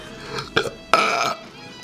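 A person lets out a burp in two loud, raspy bursts, a short one followed by a longer, drawn-out belch, close to the microphone with no talking.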